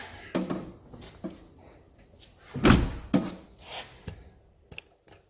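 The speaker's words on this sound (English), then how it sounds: "Let's close the door again." An Alfa Romeo MiTo car door swings shut with a solid thump midway, amid lighter knocks and handling clatter nearby, close-up with no talking.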